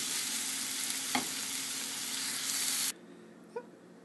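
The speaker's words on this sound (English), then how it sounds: "stir fry that for a few minutes until everything is nice and cooked" Rice roll filling stir-frying in a pan for banh cuon, a steady broadband sizzle with a couple of utensil scrapes, cutting abruptly to a much quieter background with one faint clink.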